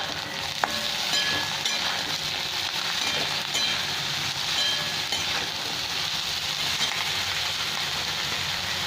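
Chopped eggplant sizzles in a pan with already-fried onion and potato. The hiss is steady and even, with occasional small pops and clicks and no voices over it.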